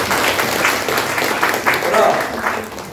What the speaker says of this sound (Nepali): ताली मार्दैन है युथहरूलाई